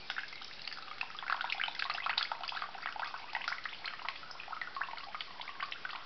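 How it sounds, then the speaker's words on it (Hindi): Water drains from soaked sago pearls set on a plate, giving a steady, close splashing trickle with dense dripping that runs unbroken throughout, without talk. "अब हम इसको इसी प्लेट को रख के और इसका सारा पानी निकाल देंगे।"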